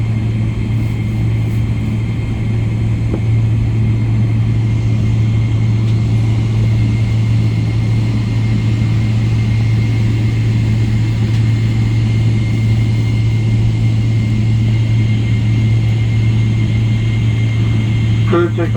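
A passenger airliner's engines roar in a steady, loud, unbroken drone during takeoff from Ho Chi Minh City airport in Vietnam, heard from inside the cabin without any voices.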